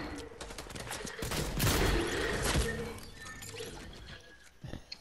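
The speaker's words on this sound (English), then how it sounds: "Got 15 people shooting at me." Gunfire in an online multiplayer shooter video game, with dense bursts of rapid shots and cracks building to a loud volley in the middle, then thinning into scattered pops, with no talk.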